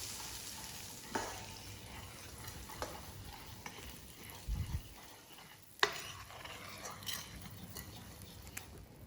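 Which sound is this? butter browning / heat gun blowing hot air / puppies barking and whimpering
butter browning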